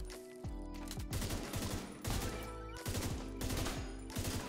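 A burst rifle in Division 2 fires rapidly in repeated tight volleys, each burst a cluster of sharp close shots separated by short pauses, loud and distinct with no talk.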